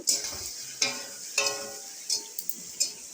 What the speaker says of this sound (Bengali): এবারে সব সবজিগুলো আমি মশলার মধ্যে ঢেলে দিয়ে একসাথে কষিয়ে নেব